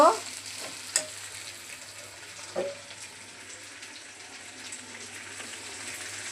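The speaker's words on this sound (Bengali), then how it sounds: "মাংসের সাথে পেঁয়াজ রসুনটাও ভালোভাবে ভেজে নিচ্ছি।" Chicken pieces frying with onion and garlic in a pan for a chicken khichdi, a steady low sizzle with an occasional stir or scrape, close by and quiet, with no talking.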